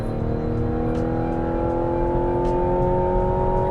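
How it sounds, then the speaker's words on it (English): A 2024 Mazda CX-90's 4-cylinder engine in sport mode accelerates with a continuous, loud drone of steady engine tones heard from inside the car, with no talking over it. "we have the sport mode setting here, which is going to fully activate the engine, giving us our best acceleration"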